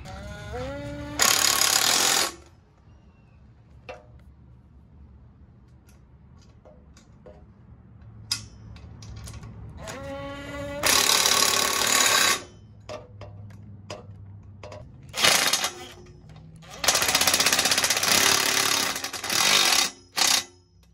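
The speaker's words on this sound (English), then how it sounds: "now I'm gonna tighten all this bolts down" Bolts being tightened on a roof rack for a third-generation truck, with bursts of loud power-tool whirring separated by quieter stretches of ticking, ratcheting clicks and handling noise, close up.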